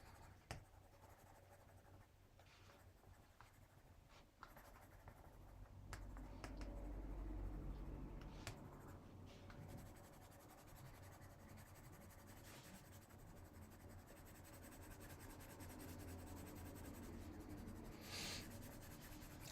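Colored pencil drawing on paper over a stamped woodland bridge scene, a soft steady scratching and rubbing of the lead with short strokes, close and quiet throughout, with no talking.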